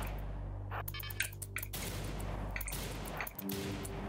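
Automated turret in RimWorld fires a rapid burst of shots, a dense crackling volley over steady game music, loud and close throughout.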